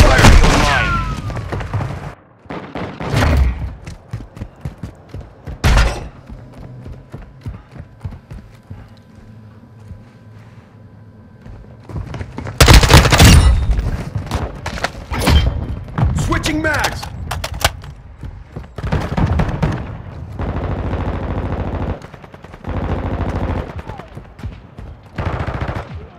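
Gunfire and blasts in Call of Duty: Modern Warfare II ring out in loud broadband bursts, a heavy volley at the opening, isolated cracks, and a dense barrage midway, with sustained rumbling combat noise in between.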